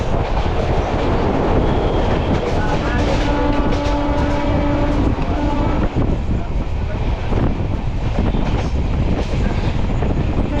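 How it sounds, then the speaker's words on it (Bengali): An Amrit Bharat Express, running Sealdah to Varanasi, speeds past Dakshineswar: a loud, continuous rumble and roar with rhythmic wheel clatter, heard from on board throughout. "ট্রেন কিন্তু দুর্দান্ত গতিতে চলছে। দক্ষিণেশ্বর ক্রস করলাম।"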